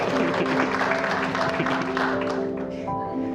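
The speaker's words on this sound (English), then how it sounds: "Everyone, a round of applause for Mia." Wedding guests at Arley House & Garden applaud together, a steady, moderately loud patter that eases slightly toward the end, with sustained music tones running underneath.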